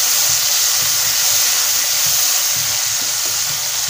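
Masala spices fry in hot oil in a pan, giving a loud continuous sizzle and hiss close by, with faint scraping from stirring and no talking.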